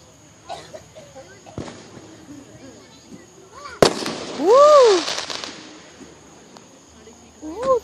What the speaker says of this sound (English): Yeah, I like the fireworks.